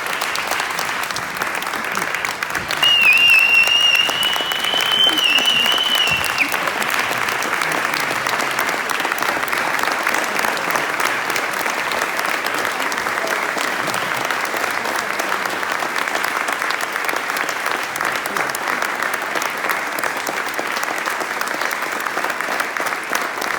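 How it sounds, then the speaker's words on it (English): A large audience at an awards program gives a sustained round of applause for four standing awardees, loud, dense clapping rolling on evenly for over twenty seconds, with a brief whistle-like tone early on. "I would like for us to give them one huge round of applause"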